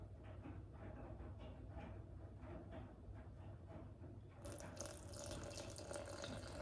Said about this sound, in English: So I need to add some lukewarm water